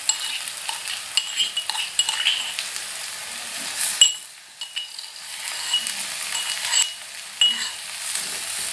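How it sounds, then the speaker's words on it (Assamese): A mix of ginger, garlic, cloves and cinnamon fries with onions in hot oil. It gives a steady loud sizzle with brief stirring scrapes and light clinks of a utensil against the pan. "এতিয়া আদা, নহৰু, লং, ডালচেনি এই মিশ্ৰণটো মই দি দিছোঁ। এইখিনি দি অলপ ভাজিব লাগিব।"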